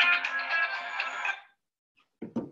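A phone rings with an incoming call during a talk on COVID-19 triage and PPE: a steady, bright electronic ring tone for about a second and a half, then silence and two short soft knocks.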